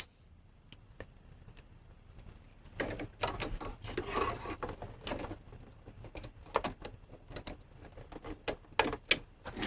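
A sewing machine stitches a buttonhole in short bursts of quick mechanical tapping and whirring, separated by pauses and small clicks, close by but fairly quiet, with no talking.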